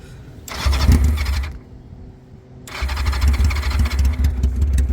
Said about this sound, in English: Cold start. No choke. Let's see if she runs.